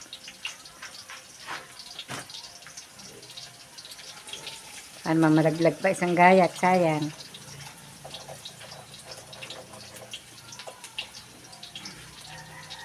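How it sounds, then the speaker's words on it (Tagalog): Water poured and drained from a pot while cooking ketchup chicken, a two-second burst of splashing and gurgling in the middle of a quiet kitchen, with someone speaking before and after it. "Tigisin mo muna ang tubig."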